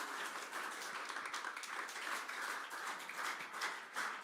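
A church congregation applauds the preacher at a Tuesday worship service, a steady wash of many hands clapping together, moderately loud and continuous for a few seconds.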